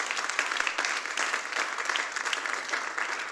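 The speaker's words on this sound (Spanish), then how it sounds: "denle un aplauso al Señor" A church congregation claps together in praise, a steady, fairly loud burst of many hands with a slightly pulsing rhythm and no clear speech over it.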